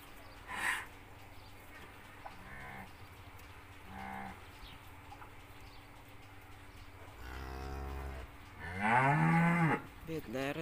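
Cows on a farm, including one that has just given birth, mooing: several separate lowing calls spread across the span, a short one early on, then longer, louder moos near the end, with quiet barn ambience between them.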